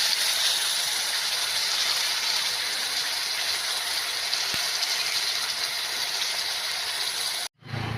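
Ginger-garlic paste hits spiced masala frying in a pan for a fish curry, giving a steady, close sizzling hiss that holds evenly and then cuts off abruptly near the end.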